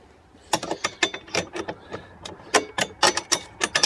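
A ratchet wrench works bolts on the steering assembly of a Pengor Penguin, giving close, crisp metallic clicks in quick irregular bursts with short pauses between strokes.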